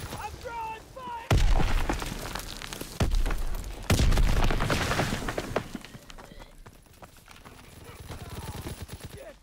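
Loud booms of grenade explosions and bursts of rapid gunfire crash through a WW2 shooter game's battle, with heavy blasts punctuating continuous firing while voices shout over the chaos.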